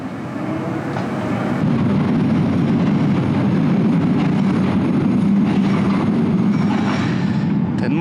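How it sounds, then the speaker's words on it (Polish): A metro train rumbles across the Ponte Dom Luís I (Ludwig I bridge) in Porto, a loud, steady low roar that swells after the first second and holds for the rest of the stretch with no talking. "Ten most jest fajny, tylko przejedzie metro i nie śpi całe miasto."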